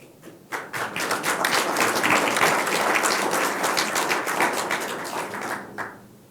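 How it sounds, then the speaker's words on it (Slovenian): An audience applauds after a poem reading at a talk, a dense, steady burst of many hands clapping that swells quickly, holds for several seconds and then tapers off. "Hvala za aplavz."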